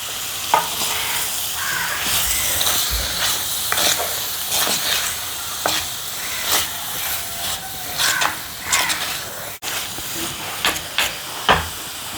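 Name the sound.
banana flower added to frying masala, sizzling and stirring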